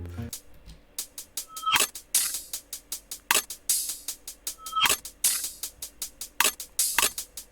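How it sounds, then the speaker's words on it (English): A reversed percussion sample for a future bass drop, built in FL Studio, with swelling hits that cut off sharply in a quick repeating pattern, moderately loud and alone. "and reverse percussion."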